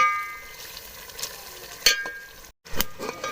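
Coriander powder and korma masala roasting in a pan for korma, a faint steady sizzle with a few sharp clinks and scrapes, close and without talk.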